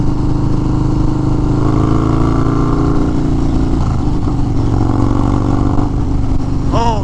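A 2021 Harley-Davidson Street Bob 114 motorcycle, a loud, close engine drone that climbs and shifts in pitch as it accelerates, with heavy wind rush and a faint voice underneath.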